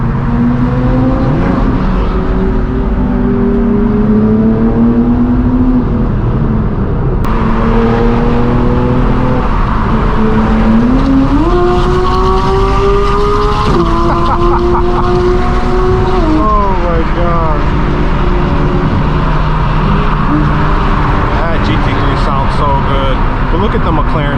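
A straight-piped BMW M4 G82 with a manual gearbox roars loudly and continuously through a launch-control sequence, its exhaust note rising and falling with revs, with voices talking over the engine throughout.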